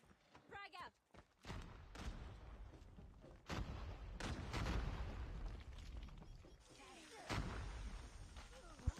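In a first-person shooter video game match, a grenade explosion booms amid bursts of gunfire, heavy deep thumps and crackling shots overlapping with a commentator's voice.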